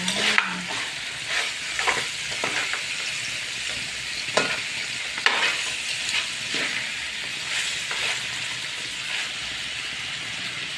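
Pork ribs caldereta stirred in a hot frying pan, a steady sizzle under scraping, clattering utensil strokes that come in irregular bursts, close and fairly loud throughout.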